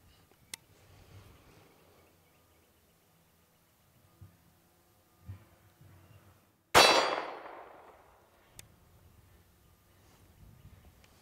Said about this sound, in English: So I'm gonna go ahead and shoot it with a pistol and see what we get.